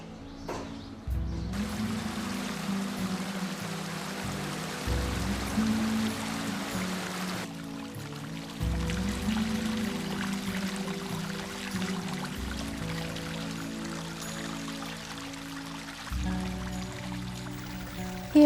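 Water runs and gurgles continuously from a natural spring in Oman, a steady rushing flow with a low rumbling undertone and no voices.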